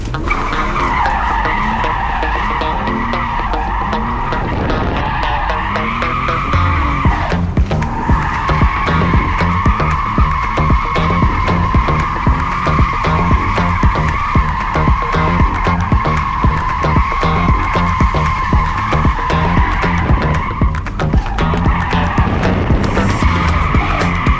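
A BMW 330Ci drifts through repeated figure eights, its tires squealing in long, loud sustained skids, with engine roar continuous underneath and brief breaks as the car transitions between turns.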